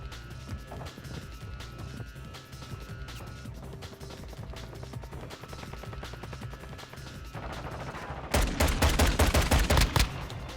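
Rapid automatic fire from akimbo GS Magna pistols in MW2 chatters steadily as a fast string of close shots, growing louder and denser near the end.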